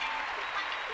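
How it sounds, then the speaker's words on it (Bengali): A studio audience on a Bengali television game show applauds in a steady, dense patter of many hands, moderately loud and continuous for a second. "জোরে হাততালি একটা।"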